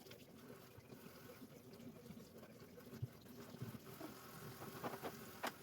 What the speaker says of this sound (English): So I'm going to rerun them through some cold water